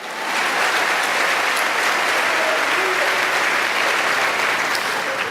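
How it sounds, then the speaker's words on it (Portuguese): A church congregation claps continuously and fairly loudly as an offering of applause, a broad, even wash of many hands that holds steady throughout. "Dá uma oferta de palmas ao Senhor"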